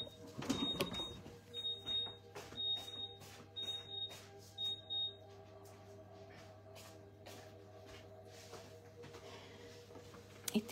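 A kitchen oven that has just switched off beeps, a thin high electronic tone repeated about five times in short even bursts, faint against a low background hum.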